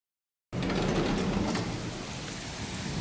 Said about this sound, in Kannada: ಮಳೆ ಯಾವ ಲೆವೆಲ್ಗೆ ಬರ್ತಾ ಇದೆ ಅಂದರೆ ನಾನು ವಾಶ್ ಮಾಡಿದ್ದೆಲ್ಲ ವೇಸ್ಟ್ ಆಗೋಯ್ತು